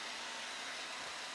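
Eufy E25 robot vacuum cleaning a floor, a steady, faint, even whirring hiss with no talk.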